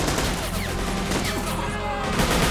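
Dense gunfire crackles without pause in the Army Men of War battlefield game, overlapping rifle and machine-gun bursts blending into a loud, steady fusillade with faint voices buried underneath.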